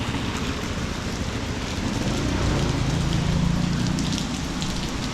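Steady rain falls on a street in Doumen Old Town, Zhuhai, as an even, close wash of patter that lasts the whole time, with no talking.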